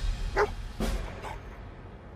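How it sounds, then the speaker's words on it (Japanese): Dogmeat, the dog companion in Fallout 4, gives two or three short barks spaced a fraction of a second apart, close and moderately loud over quiet background. "いい犬だな"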